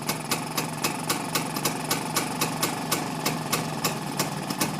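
A Rajdoot 175 motorcycle engine idles steadily during carburetor tuning, its single-cylinder exhaust pulsing in an even, rapid rhythm, close and continuous with no voices.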